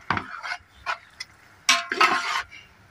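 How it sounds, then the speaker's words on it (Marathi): Cooked pasta tipped into a homemade white sauce gravy and stirred in a pan, with a few scattered soft scraping and clinking stir sounds close by, spaced unevenly with quiet gaps between. "आता त्याच्यामध्ये आपण पास्ता टाकून घेणार आहोत."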